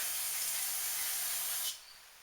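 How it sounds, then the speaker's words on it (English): A steady, close aerosol hiss of carburetor cleaner sprays onto a carburetor continuously for under two seconds, then cuts off abruptly into quiet. "take the carburetor cleaner"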